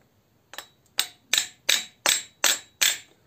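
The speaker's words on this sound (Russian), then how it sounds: "берем такой молоточек маленький и простукиваем их." A small hammer taps the valves on a pit bike cylinder head, giving seven sharp, close metallic ticks spaced about a third of a second apart in a steady rhythm.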